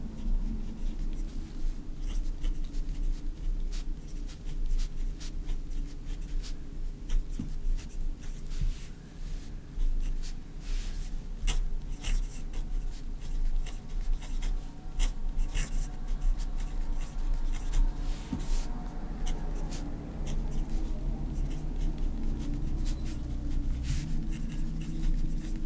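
A fountain pen scratches steadily across paper while writing and drawing, a close, continuous rasp of nib strokes with frequent short scrapes and taps, no voices.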